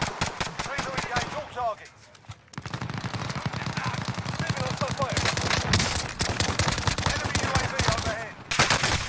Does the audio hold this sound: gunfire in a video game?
yes